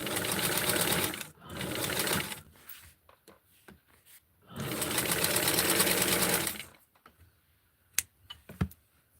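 Sewing machine stitching the hem of a doll T-shirt, running in two long steady bursts separated by a pause, with brief handling clicks and light shuffling afterward.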